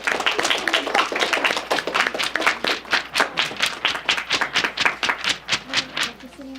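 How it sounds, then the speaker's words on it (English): Hands clap for a departing contestant at a school geography bee, a small group making a loose, fairly close run of distinct claps in rapid rhythm that thins toward the end. "give a fond farewell and a round of applause for Angus McLaughlin"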